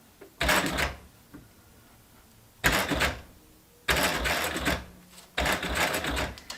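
Sewing machine driven by a high-torque servo motor, run in four loud close bursts that start and stop abruptly with quiet gaps between, no voices.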